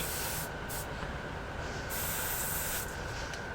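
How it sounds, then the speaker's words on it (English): Aerosol can spraying black primer onto an assembled miniature figure, a steady continuous hiss running the whole time, with a few short breaks between bursts, fairly close. "this is just some guy spraying black paint tonight"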